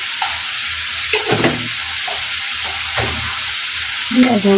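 Chicken meat stir-fried with spices in a pan makes a steady close sizzle, broken by scraping stirs of a spatula and a few louder clanks.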